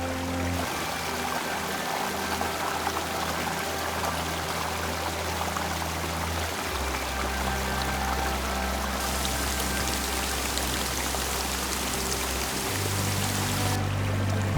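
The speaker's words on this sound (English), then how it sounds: "Doyle's River Falls, another hidden gem within the Shenandoah Mountains" Steady broadband rush of water flowing and pouring at Doyle's River Falls in the Shenandoah Mountains, continuous and fairly close with a low rumbling undertone, no voices.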